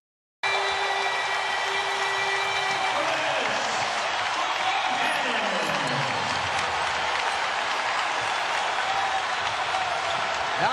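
A basketball arena crowd roars with sustained cheering and applause at a University of South Florida game, loud and dense throughout with a descending tonal sweep in the middle.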